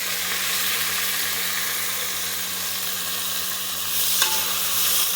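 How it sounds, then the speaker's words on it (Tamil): Fresh mint and coriander leaves sautéing in a pan for chicken biryani, a continuous close hiss and sizzle with a faint steady hum underneath and one brief clink near the end. "அதுக்காக தான் முன்னாடியே வந்து புதினா கொத்தமல்லி போட்டு வதக்குறோம்"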